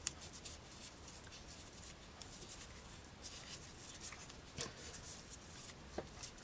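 Paper being folded and creased into a pleated paper rosette, with soft scraping and rubbing strokes and a few sharper crinkles over a quiet background.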